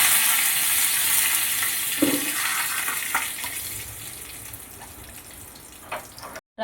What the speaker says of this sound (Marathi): बघा किती छान चुर्र आवाज आला आहे